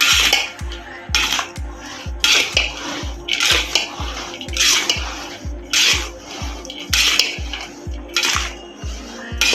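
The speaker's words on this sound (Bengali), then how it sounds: "পোলাও সব আমি দিয়ে দিয়েছি, যা যা লাগে মিশিয়ে নিচ্ছি।" Pulao rice being mixed with its ingredients in a large pot, a brisk, regular run of metal spoon clanks and scrapes against the pot with wet, rubbing rice sounds between strokes, close and fairly loud.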